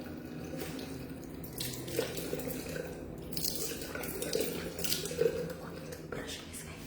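Hot tap water runs steadily at a resort during a family vacation, a continuous splashing wash with a few brighter drips, moderately close, with faint background noise.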